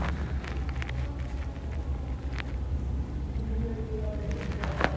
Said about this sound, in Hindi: तो 2 से 3 मिनट तक हम इसको फ्राई करते हैं।